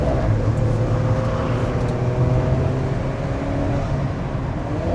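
Sports car with traction control off circling a patchy, drying race track, a continuous close engine and tyre roar holding fairly level throughout with no speech.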